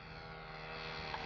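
A Boeing ScanEagle drone aircraft flies with a steady, droning propeller engine hum that holds at a constant level and swells slightly toward the end, with no voices present.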